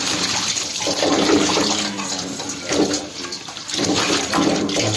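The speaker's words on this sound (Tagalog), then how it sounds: "Hugasan po natin ng mabuti para mawala yung mga dumi." Water sloshes and splashes as dried anchovies are rinsed by hand to remove dirt, a close, continuous gush with rhythmic surges.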